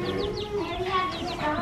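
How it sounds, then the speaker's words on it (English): Chickens cluck and chirp nearby in short repeated calls, fairly quiet, with a faint background murmur. "Those are big chickens."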